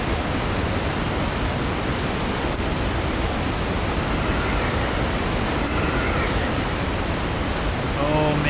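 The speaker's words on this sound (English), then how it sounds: "the waterfall from the original Resident Evil" A waterfall in the fan-made survival horror game Resident Evil Remix roars as a steady, dense broadband rush, loud and unbroken for the whole stretch, with faint tonal game effects near the end.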